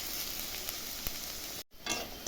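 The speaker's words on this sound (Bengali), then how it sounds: "পেঁয়াজটা হালকা হালকা ভাজা হয়ে গেছে" Chopped onions sizzle steadily in a hot pan, browning before meat and potatoes go in. The frying is close and constant, with a stir or two, a brief dip near the end and no voices.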